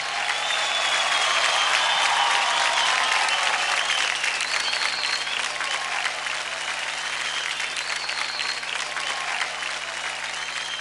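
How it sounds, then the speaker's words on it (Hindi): A studio audience applauds a dance performance on a televised kids' dance competition stage, with steady dense clapping that stays loud and continuous from start to finish, with no talk over it. "फैंटास्टिक जोरदार ताली हो जाए अतुल और वत्सल के लिए"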